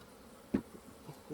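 Honey bees buzz around an open hive as a super is added, a faint, quiet hum with one brief louder bump.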